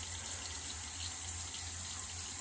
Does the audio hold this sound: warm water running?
yes